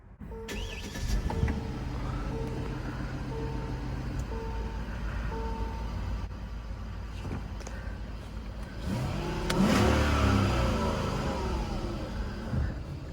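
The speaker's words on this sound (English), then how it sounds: "let's go ahead and fire this one up" A 2013 Hyundai Genesis R-Spec fires up via its push-button start, the engine catching with a loud surge around the middle and settling into a steady, close idle with no talk.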